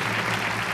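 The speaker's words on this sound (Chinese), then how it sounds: "掌声鼓励一下" A studio audience at a variety show bursts into dense applause, a loud continuous wash of many hands clapping in a short burst.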